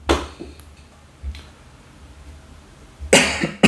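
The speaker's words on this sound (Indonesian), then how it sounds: "Sorry teman-teman, batuk sedikit ya." Short coughs from a person near a VHF radio, one at the start and a louder burst near the end, with a faint cough between and quiet room noise.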